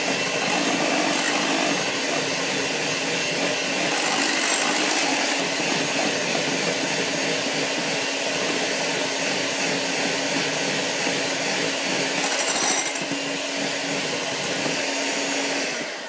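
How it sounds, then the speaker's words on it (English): An electric mixer whirs steadily as it beats cocoa powder into a chocolate mixture, a loud, continuous motor drone with slight swells in pitch and no talking. "it seems like the mixer actually does take a lot of that powder clumps away"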